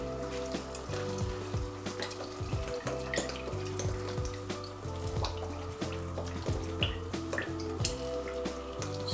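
Hot water poured into a pan of stuffed Turkish peppers and vegetables, a steady running, splashing stream with tonal gurgles and drips, close and moderately loud, with no talking.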